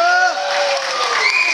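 A fan crowd at an ICW wrestling event cheers and shouts loudly through a title match, a dense close-up roar with voices calling out over it.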